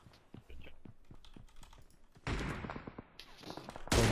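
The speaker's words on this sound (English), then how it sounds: "Both teams are shooting me now." Gunfire in the PUBG Mobile battle royale game: rapid clicky shot bursts and sharp cracks, growing louder and denser from about two seconds in with a loud final burst, no talk.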